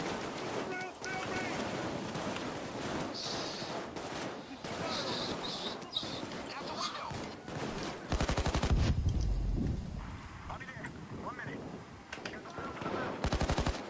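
Automatic gunfire in the video game Payday 2, dense rapid bursts running through most of the span amid busy game noise, with a heavier boom near the middle and people talking over it.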